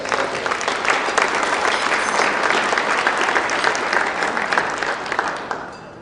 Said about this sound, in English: Everybody, let's give a round of applause for all of us.